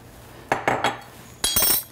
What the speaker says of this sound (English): I'll add 2 tablespoons of the hot water.